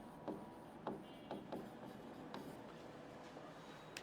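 A word is written out on a board during an anatomy lesson: faint, soft scratchy strokes in short irregular bursts over a quiet background hiss.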